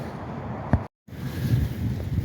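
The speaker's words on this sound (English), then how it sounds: "it is freaking windy" Strong wind at an outdoor shooting range, heard as a loud, continuous rumbling buffet against the microphone with gusty surges, broken by a brief dropout, with no talking.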